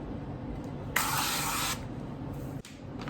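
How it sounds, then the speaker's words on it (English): Pure avocado spray oil is sprayed into a loaf pan for greasing: a single steady hissing burst of just under a second, rising out of a quiet kitchen background. "This is pure avocado spray oil."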